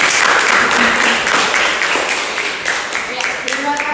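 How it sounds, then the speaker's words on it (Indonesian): A room of people applauds, dense clapping that starts strong and gradually thins out, with voices mixed in near the end. "oke, aplaus dulu"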